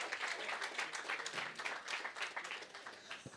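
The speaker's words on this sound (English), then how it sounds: "we'll give them a round of applause" Sustained applause from a crowd at a live podcast recording, steady dense clapping filling the whole stretch at moderate distance, with a few faint voices mixed in.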